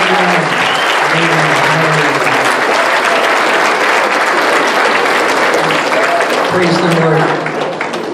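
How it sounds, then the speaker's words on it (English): Loud, sustained applause from a Passover Seder congregation, dense clapping filling the room continuously with crowd noise and a few voices mixed in. "give him the big clap offering"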